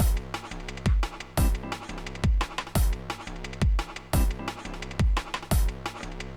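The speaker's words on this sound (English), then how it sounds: "So now we have a basic drum groove" A basic drum and bass groove programmed on a sequencer plays punchy bass drum hits in a regular looping rhythm over sustained organ chords, loud and alone.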